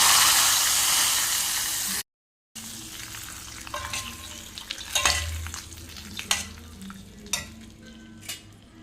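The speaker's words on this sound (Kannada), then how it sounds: "ಇವಾಗ ಮೀನು ಫ್ರೈ ಆಗ್ತಾ ಇದೆ" Fish frying in a pan sizzles loudly at first, then after a short cut a quieter steady fry continues with scattered sharp crackles and pops, close and without talk.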